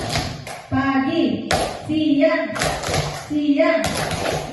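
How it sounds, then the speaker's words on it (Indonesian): An audience claps in a cue-based clapping game during a school session, with several short bursts of hand claps mixed among voices talking throughout. "Kalau pagi tepuknya 1, kalau siang tepuknya 2, kalau malam tepuknya tidak ada berisik ya."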